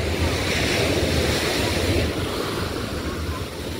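Waves wash in at a shore in a loud, continuous rushing surf with wind buffeting the microphone throughout.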